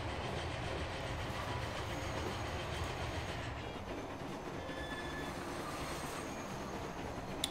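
A freight train in the Transport Fever simulation game rolls steadily along the rails, with a continuous rumble and faint clatter of wheels. It is alone and fairly even throughout, with a few thin squeal-like tones near the end.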